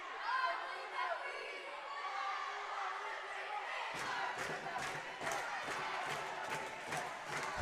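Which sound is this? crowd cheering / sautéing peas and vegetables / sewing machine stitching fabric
crowd cheering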